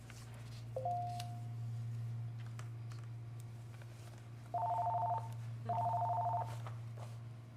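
Telephone dialing tones on a landline calling into a town board meeting: a single short tone, then two longer paired-tone bursts over a steady electrical hum in a quiet room.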